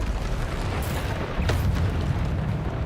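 Spell explosions from Bombarda cast during a dark wizard fight in Hogwarts Legacy, a dense continuous rumble with a sharp burst about halfway through, loud and close with no talk over it.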